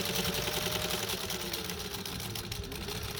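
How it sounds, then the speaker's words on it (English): A Singer 15J (15-91) sewing machine stitches through about twelve layers of denim, a steady loud mechanical whir with fast rapid clatter, running continuously and close. "that's about 12 layers of fabric we're sewing right there"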